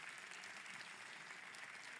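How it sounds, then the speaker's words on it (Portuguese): Audience applause at a talk at Gramado Summit 2025, a faint, even patter of clapping from a crowd that holds steady, heard alone. "uma salva de palmas"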